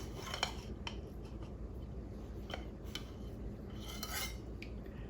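A utensil cuts a taco pie into quarters in a pan, scattered light metallic clinks and scrapes against the dish, quiet and close, with no talking.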